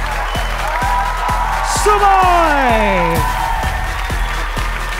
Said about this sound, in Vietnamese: hãy dành tràng pháo tay cho Big Daddy